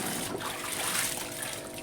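A steady rush of running water splashes continuously into a semi-automatic washing machine tub, filling it without pause.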